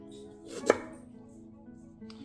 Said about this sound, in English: we'll cut off this rough root part there